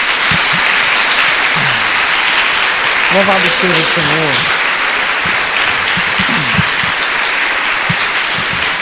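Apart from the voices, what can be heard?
church congregation applauding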